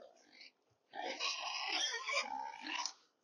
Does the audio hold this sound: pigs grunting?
yes